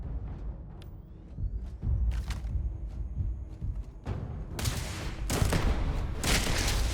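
Gunfire erupts during combat in the sci-fi video game Starfield, a series of loud shots and sharp bursts, sparse at first, then heavier rapid volleys toward the end.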